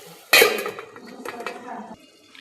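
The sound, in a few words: lid being placed on pan of gilki vegetable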